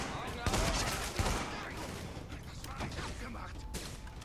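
Gunfire in The Division during a fight at a police academy, rapid volleys of shots with sharp cracks near the start, fairly quiet and blended with game noise and a voice.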